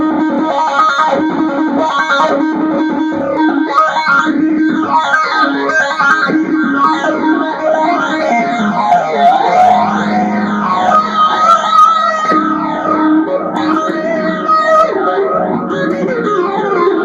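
A heavily distorted electric guitar plays a continuous sweeping riff, its tone swirling and whooshing through a phaser effect, loud and close.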